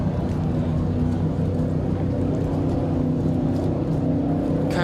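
Water ski racing boats roar past on a rough course during a world championship race, a steady loud engine drone that holds throughout with a brief higher whine near the end.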